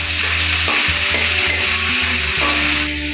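Ginger paste sizzles and fries with whole cumin and spices in a hot pan while being stirred, making a steady, close, loud crackle with soft scraping strokes throughout, while cooking kohlrabi dum.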